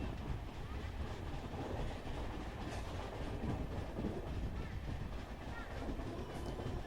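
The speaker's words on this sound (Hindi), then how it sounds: "782 निजामुद्दीन मैसूर सुपरफास्ट एक्सप्रेस, जो कि सुबह 5:10 से निजामुद्दीन से छूटी हुई है" Steady rumble and rhythmic rolling of the Nizamuddin Mysore Superfast Express running on rails between Bhopal and Itarsi, heard from on board as a continuous, even clatter at moderate level.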